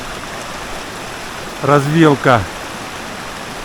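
A mountain stream runs as a steady broadband rush, with someone speaking briefly over it partway through.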